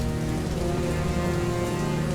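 Steady rain falls, a dense continuous hiss of drops on surfaces filling the whole short stretch evenly, loud and close with no voices.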